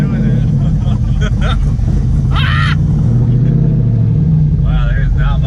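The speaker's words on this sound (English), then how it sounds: "We're just doing a burnout." Heavy engine rumble from a high-dollar burnout car doing a burnout, loud and steady throughout, with people talking and shouting over it.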